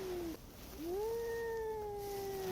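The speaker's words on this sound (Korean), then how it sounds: "위에 다른 고양이가 있네" A cat meows twice in long, drawn-out, close cries with a rising then gently falling pitch, with no voices, at a national-park station on Bukhansan mountain where another cat sits above.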